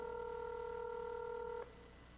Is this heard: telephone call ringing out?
yes